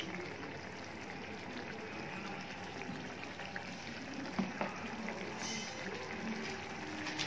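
Leftover water from boiling bottle gourd is poured in a small amount into the curry gravy, giving a steady, soft, close splashing wash with a couple of brief louder splashes near the end and no talking.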